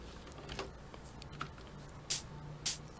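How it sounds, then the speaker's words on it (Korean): Scattered keyboard taps land sparsely and fairly softly during play of the rhythm game A Dance of Fire and Ice, with a couple of louder clacks near the end over a faint background hum. "키보드 소리가 안 들려야 되는데"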